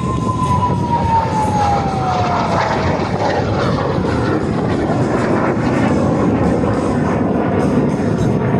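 A loud, continuous jet engine roar from a military jet trainer flying at an air show in Košice, with a descending whine at the start, heard close and steady throughout without any talking.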